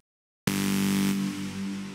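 Reason 8 synth bass built from white noise with no distortion units, a sustained steady buzzy tone with a bright noisy hiss on top, entering abruptly after a short silence and holding at an even level.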